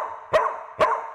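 A dog gives two short, sharp barks about half a second apart, close and clear with a little quiet in between.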